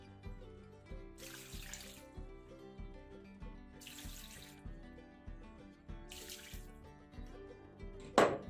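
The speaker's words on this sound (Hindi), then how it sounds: "ये देखिए, पानी मैंने लगा दिया है।" Water is poured into a pot of mutton and potato curry (aloo gosht) in three splashing bursts, each lasting under a second, over steady background music.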